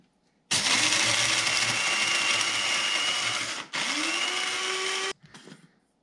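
An electric chopper whirs loudly and steadily as it grinds pepper, pausing briefly midway, then restarts before cutting off with a short rattle.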